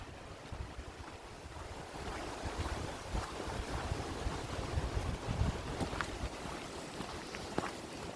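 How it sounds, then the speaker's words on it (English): Blustery wind buffets the microphone outdoors on a hilltop mound, a steady rumbling roar with gusts rising and falling and no voices. "if you can hear the blowing of the wind, I'm sorry"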